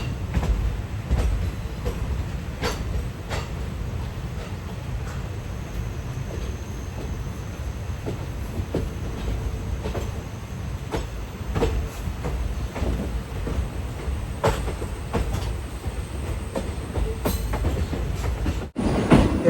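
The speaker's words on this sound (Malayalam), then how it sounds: "ഇത് ബാംഗ്ലൂർ വണ്ടിയാണ്" A passenger train from Bangalore runs on the rails near Ernakulam in Kerala, a steady close rumble with rhythmic wheel clatter and occasional squeals that continue throughout before cutting off abruptly at the end.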